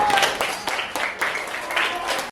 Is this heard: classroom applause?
yes